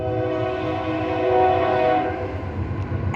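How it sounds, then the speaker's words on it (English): A train rumbles past nearby through the small town of Edgewood, Texas, with a long, loud sustained horn blast swelling in the middle, steady rolling noise underneath. "we got the authentic train running through town"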